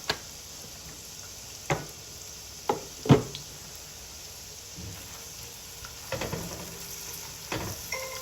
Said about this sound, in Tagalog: Lalagyan ko po siya ng konting olive oil.